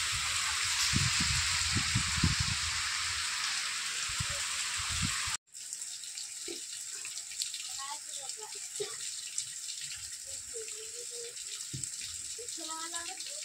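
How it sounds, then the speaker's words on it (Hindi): Rain starts falling in a village, a steady broadband hiss of water with a gushing quality, loud at first and then quieter after an abrupt cut, with people talking over it in the second half. "वर्षा आरंभ हो गला"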